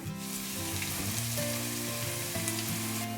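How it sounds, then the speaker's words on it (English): Falafel fries in hot oil, a steady close crackling sizzle with soft bubbling pops throughout and no voices. "So now I'm frying all of my falafel."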